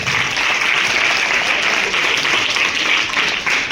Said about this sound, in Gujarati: એટલે આજે દાસભાઈ માટે જોરદાર તાળી પાડી ગઈ આપણે.